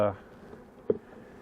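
Honey bees buzz around an open beehive, a faint continuous hum close by, with a brief knock and a short voice fragment at the start.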